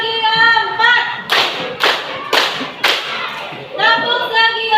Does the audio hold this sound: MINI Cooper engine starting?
no